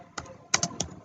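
SQL code is being typed on a computer keyboard, four quick, close key clicks in a short uneven burst, crisp against a quiet background.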